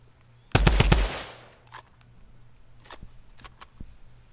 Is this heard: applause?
no